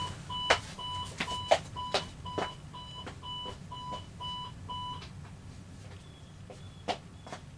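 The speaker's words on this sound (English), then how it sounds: "Daggone alarm goes off at 12 o'clock" An alarm clock beeps in quick repeated pairs of electronic tones, going off steadily for about five seconds before stopping, moderately loud against a low room hum with a few knocks and thumps.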